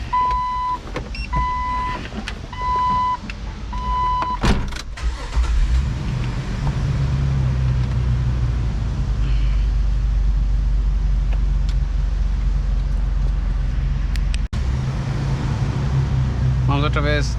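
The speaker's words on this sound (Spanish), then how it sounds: "Vamos para adentro, prender el motor y sentir qué pasará." A Jeep Wrangler with a misfire starts up after a few chimes and a cranking burst, then settles into a steady, loud idle with a low rumble, heard close from inside the vehicle.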